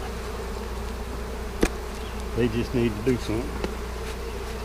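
Honey bees buzz in a steady drone around an opened hive box during an inspection in a new bee yard, while someone speaks briefly over the hum and a few sharp handling knocks sound.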